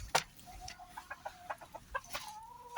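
Chickens cluck in an aviary at a poultry-rearing setup, with short repeated calls at moderate distance over low background noise and no talk.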